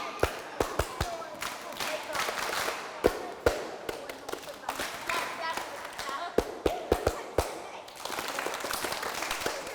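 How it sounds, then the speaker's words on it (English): A live audience at a nature museum program claps a rhythm together, sharp claps in irregular bursts and patterns over a noisy room with talking. "So we're doing all this clapping stuff"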